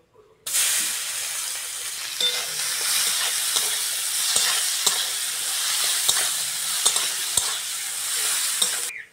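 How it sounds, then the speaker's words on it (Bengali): Chopped onion hits hot oil with a sudden loud sizzle that settles into a constant close frying hiss, punctuated by several sharp clicks of a spatula stirring in the pan. "ওই তেলের মধ্যে কুচনো পেঁয়াজ দিয়ে দেবো।"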